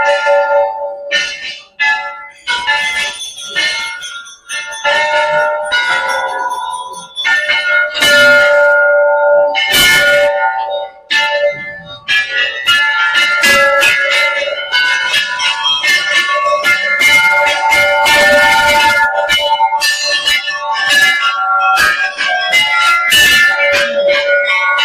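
Many brass bells clang and ring repeatedly at a crowded Hindu temple hung with countless tied bells, loud overlapping strikes with long ringing tails and no talk.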